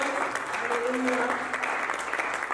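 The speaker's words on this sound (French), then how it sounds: "Can we clap for the Lord?" A church congregation claps in praise during a sermon, a dense, sustained round of applause at moderate level, with faint voices and a brief sung or spoken tone running underneath.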